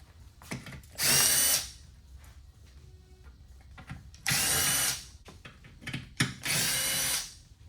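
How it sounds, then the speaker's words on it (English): A power drill removes bolts during an alternator replacement on a 2013 Cadillac XTS, whirring in three loud bursts of about a second each, separated by quieter clicks and handling noises. "Make quick work of it with the drill if you have one."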